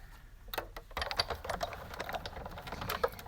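Paper being cut with scissors to shape a leaf for a handmade autumn card, soft snipping and rustling at close range, steady and continuous with no voices.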